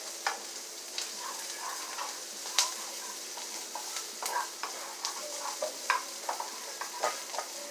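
Onions sizzle and fry in a pan over steady heat, a continuous crackling hiss broken by scattered pops and spatters, close and fairly quiet with no talking.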